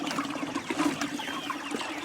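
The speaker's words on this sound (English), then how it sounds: "So we're going to turn on our water." Water runs into a red spring-loaded livestock drinker fed from a hillside reservoir, a steady close trickle and splash with small bubbling bursts.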